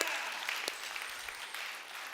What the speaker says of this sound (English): Yes, we're clapping for you